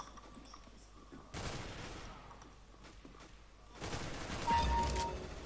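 Gunfire in the shooter game CS:GO, two separate bursts of rapid shots, fairly faint and distant-sounding, with quiet stretches between them.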